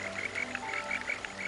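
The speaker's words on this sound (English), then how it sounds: "This is the sound of Burgeri robustus." A Burgeri robustus frog calls repeatedly in short, bright, trilling notes in Shuangliu National Forest Recreation Area, Taiwan. The calls are faint and slightly distant over a steady background hum.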